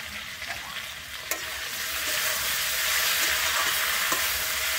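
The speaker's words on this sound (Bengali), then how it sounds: "আমি কিন্তু এইভাবে ঢাকনা দিয়ে মূলো আর আলুটাকে খুব ভালোভাবে এখানে ভেজে নেব" Potato and radish pieces frying under a lid in a pan for a Bengali tengra fish curry, a loud continuous sizzle that swells and holds steady, with a couple of faint clicks and no talk.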